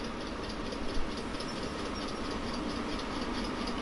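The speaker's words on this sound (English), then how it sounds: "Start the train moving again." Train in a PS4 railway simulator pulling away: a steady broad rumble of rolling stock and engine noise, constant and fairly loud for a few seconds, with no speech.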